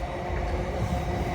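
An LNER train, unit 801-204, passes through York station with a steady, loud rumble and rolling drone that holds level throughout.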